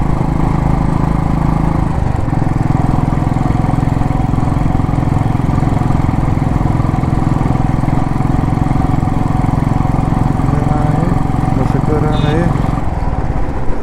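A motorcycle engine runs steadily on a road, a continuous close, loud drone with a brief change near the end.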